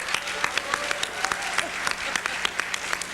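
Audience applause at a policy conference hall, steady dense clapping from a sizable crowd with sharp individual claps standing out, moderately loud and continuous throughout.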